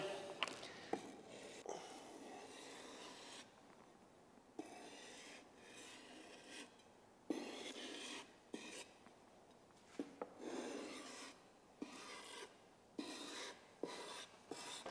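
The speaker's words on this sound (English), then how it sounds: "You're shaving the top level off the sandpaper." A knife blade is drawn across sandpaper in repeated scraping strokes, each a soft close rasp separated by short pauses, quiet and steady.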